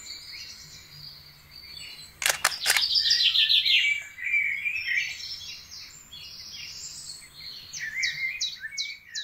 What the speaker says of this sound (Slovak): počúvať spev vtákov